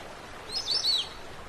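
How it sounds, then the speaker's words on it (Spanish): Birds chirp and sing in a tropical Nile reed forest, a short burst of bright, high tweets rising over a quiet, steady background. "Todas las especies de aves del Nilo tropical residen aquí."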